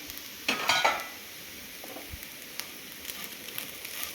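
Spatula scraping and stirring potato fried rice in a hot pan, a few close scrapes and clinks over a low sizzle, louder at first and then quieter.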